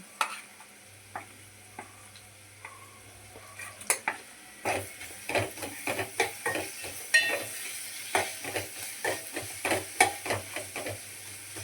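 Bitter gourd slices fry with turmeric and ginger-garlic paste, a steady sizzle broken by repeated scraping stirs of a spoon in the pan, the strokes growing busier and more regular partway through.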